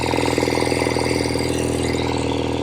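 A 1970 Royal Enfield Interceptor 750 Mk II motorcycle engine pulling steadily while ridden, a loud, continuous twin-cylinder drone with a fast even pulse and rattle, heard close without speech.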